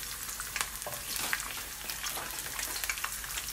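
Garlic and thyme fry in hot oil in a pan where fish is being cooked, giving a dense, continuous sizzle and crackle with frequent small pops, close and steady throughout.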